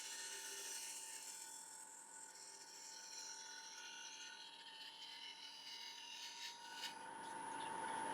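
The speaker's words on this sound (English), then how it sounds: "So now I'm just going to tidy up this edge here. So I'm just doing a little shear scrape." A woodturning tool shear-scrapes along the live edge of a mulberry bowl spinning on a lathe, giving a faint, steady hissing rasp under a constant motor hum that grows slightly stronger near the end.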